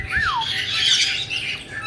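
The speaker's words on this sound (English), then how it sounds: "So it's just parrots everywhere right now for recess." Several pet parrots out for recess let off a rising whistled chirp and then a run of harsh, overlapping squawks, close and fairly loud throughout.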